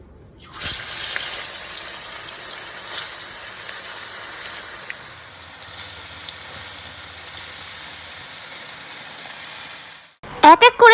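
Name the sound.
lote fish frying in hot oil in a wok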